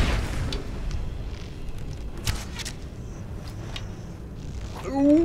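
Skyrim's Slow Time shout bursts out as a deep, booming voiced blast at the start, then fades into muffled, slowed-down game ambience with scattered dull thumps.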